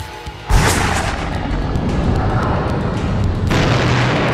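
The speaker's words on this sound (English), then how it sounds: "Slats aims the sonic cannon." A sonic cannon blast in an action audio drama: a loud, sudden boom bursts in and roars on as a sustained, rumbling wash of noise that swells again near the end, with no voices.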